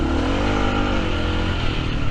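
Kawasaki KLR650 or Suzuki DR650 dual-sport motorcycle accelerating hard in second gear with the rear tire spinning, a loud, steady, close engine roar that rises slightly at the end.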